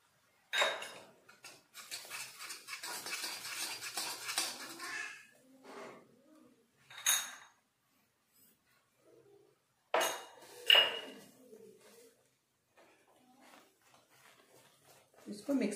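A spoon stirs milk powder in a bowl for a gujhiya filling, making scattered clinks and scrapes in short bursts with quiet pauses between them, while faint bird chirps sound in the background.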